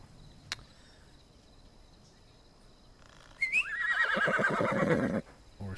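A horse in the video game Wild West Online gives a loud whinny partway through, a falling, wavering neigh that stands out over faint insect-like ambience and a soft earlier click.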